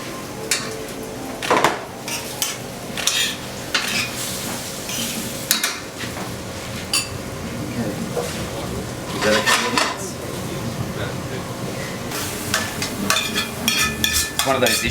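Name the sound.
stirring eggplant into a pan of pasta sauce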